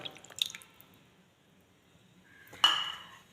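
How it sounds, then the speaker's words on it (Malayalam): Coconut milk pressed from grated coconut is poured into a tender jackfruit and dried prawn curry: a few light drips and clinks, a quiet pause, then a sudden wet splash of pouring close by. "ഒരു കപ്പ് ചെറുകിയ തേങ്ങയിൽ ഒരു കപ്പ് വെള്ളം ഒഴിച്ചിട്ട് പിഴിഞ്ഞെടുത്ത പാലാണത് അതിലേക്ക് ഒഴിച്ചു കൊടുക്കാം"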